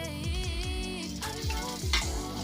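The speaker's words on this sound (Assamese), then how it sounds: "এইখিনি মই আদা নহৰু কেঁচা গন্ধটো যোৱালৈকে ভাজিম।" Ginger and garlic frying in a pan for chicken pulao, with a steady close sizzle and repeated scraping stirs.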